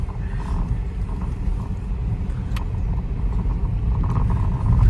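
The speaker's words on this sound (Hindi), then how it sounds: "अब इनको नदी में घूमने का मन कर रहा था, तो मैंने कहा चलो घुमा देते गाड़ी से ही, बोटिंग की जगह आपको कार राइडिंग करवा देते" A car drives slowly through a shallow river, its engine a steady low rumble with faint creaks and water sloshing beneath, continuous and fairly loud, no talking.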